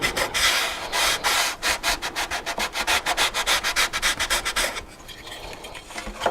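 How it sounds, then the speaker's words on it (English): Rapid back-and-forth strokes of a T-bar sander on the wooden edge of a model airplane canopy, a steady rhythmic rasping that runs for several seconds, then stops, leaving quiet room noise. "I lay my T-bar sander on here and just start sanding off that little bit of an edge"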